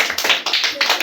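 Hand clapping in a classroom activity about animal sounds, a quick series of sharp, close claps in an uneven rhythm, roughly seven or eight strikes in about a second.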